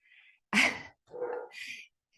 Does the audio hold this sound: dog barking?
yes